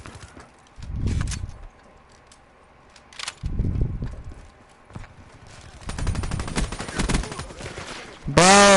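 Gunfire in a multiplayer shooter video game, several bursts of rapid automatic shots spread across the clip, with other game effects and a loud final burst near the end.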